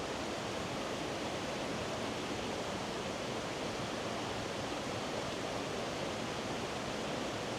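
A woodland river at Kennall Vale rushes by in a steady, even wash of flowing water that stays close and constant throughout, with no voices or other sounds over it.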